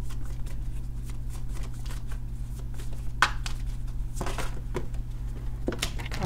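Tarot cards being shuffled and spilling out, a run of soft crisp riffling clicks with a few sharper slaps, close and fairly quiet over a steady low hum.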